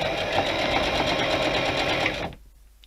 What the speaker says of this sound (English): So then what you do is you just simply sew